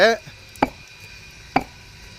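Two sharp, ringing knocks on a hollow concrete block, spaced about a second apart, each with a brief metallic ring like iron, after a short voice at the start.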